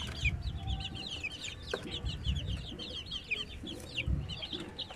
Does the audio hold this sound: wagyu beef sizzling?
no